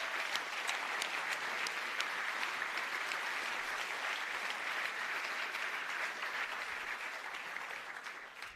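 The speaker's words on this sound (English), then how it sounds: "Round of applause as well." Audience applause at a university graduation ceremony for bachelor and master graduates, a dense, even wash of many hands clapping in a large hall, sustained throughout and fading slightly toward the end.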